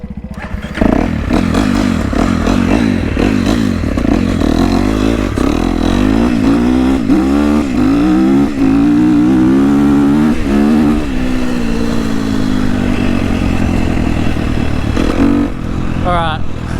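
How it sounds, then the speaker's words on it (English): A 250 dirt bike engine revs hard during wheelie practice, loud and close, with rising and falling pitch sweeps and steady roaring throughout, plus occasional clatter. "I'm on my dirt bike for the first time since I crashed"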